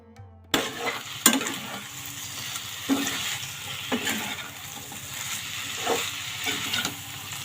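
Pointed gourd (potol) pieces fry in a wok with a steady, moderate sizzle, punctuated every second or so by sharp scrapes and knocks of a spatula stirring against the pan.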